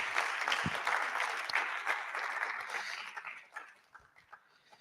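Audience applause for the chairman at a college president's public lecture, a dense sustained clapping that fills the hall for about three and a half seconds, then thins out and fades to a few scattered claps.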